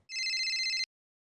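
A telephone rings in one continuous electronic trill for under a second, loud and close, then cuts off into silence.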